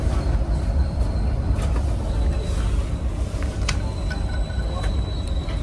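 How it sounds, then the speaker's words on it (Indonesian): Blambangan Express train pulling into Pasar Senen station, a steady, loud low rumble of rolling carriages with faint high squeaks and clicks over it, unbroken throughout. "sesaat lagi kereta api Belambangan Express akan tiba di tujuan stasiun Pasar Senen"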